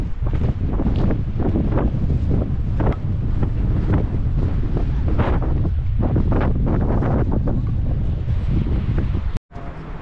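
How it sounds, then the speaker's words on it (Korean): Strong wind and high waves at a seashore at Hakampo on the Taean Peninsula, with steady loud wind rumble buffeting the microphone and surf washing continuously for the whole stretch, briefly cutting out near the end. "바람이 불어서 파도도 또한 굉장히 높습니다."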